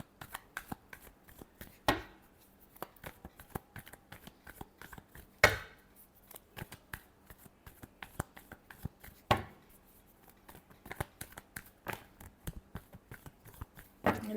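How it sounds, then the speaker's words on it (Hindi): Tarot cards are shuffled by hand at close range, giving rapid papery riffles and soft slaps with a few sharper snaps spaced through, quiet overall and without talk. "Last shuffle."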